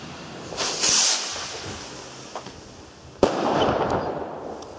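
Colourful New Year's Eve fireworks mix going off outdoors: a hissing fizz, a sharp crackling burst, then a loud bang followed by a spreading sizzle, with a few scattered pops, no talk.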